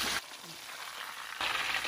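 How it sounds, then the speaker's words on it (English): Shrimp deep-frying in hot oil on medium-high heat, a steady bright sizzle and crackle that swells, eases briefly, then returns loud and close with no talking. "that's the sound of the water from the shrimp still in the oil"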